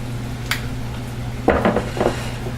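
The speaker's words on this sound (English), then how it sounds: "We take this off the flame so it doesn't overcook." A pan of bok choy lifted off a stove flame, a single light metallic clink followed by a short cluster of clattering pan and utensil knocks over a steady low burner hum.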